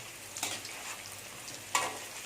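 Kola urundai dumplings frying in hot oil, a steady low sizzle with two brief louder bursts of crackle, close and alone with no voices.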